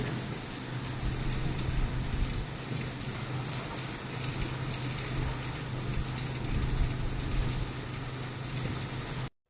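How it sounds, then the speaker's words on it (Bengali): Strong wind from Cyclone Remal sweeps across Bangladesh, a steady, loud roar that buffets the microphone continuously for the whole stretch, with no voices. "ঘূর্ণিঝড় এর প্রভাব তার জন্য এত জোরে জোরে বাতাস"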